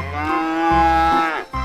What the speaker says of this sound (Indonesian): Wih, ada sapi lagi teman-teman.